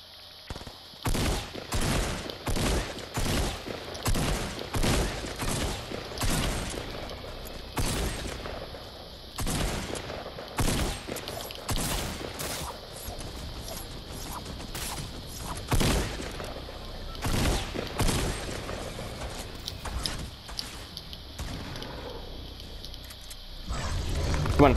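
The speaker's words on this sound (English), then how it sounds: "Shotgun, like that." Repeated loud gunshots from a shotgun in the video game Fortnite, firing in irregular bursts close up across the whole stretch, with other game sounds in between and no speech.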